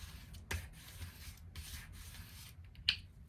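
Paper edges of a junk journal page are burnished by hand: a few short, faint rubbing strokes separated by brief pauses, with a small sharp click near the end.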